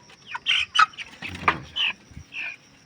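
Month-old chickens on a farm cluck in short, separate bursts, close and fairly loud against a quiet background, with occasional low thumps between the calls.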